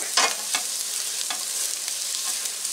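Potatoes frying in a pan at lower heat for corned beef hash, a soft steady sizzle with a few brief stirring scrapes near the start, close and alone.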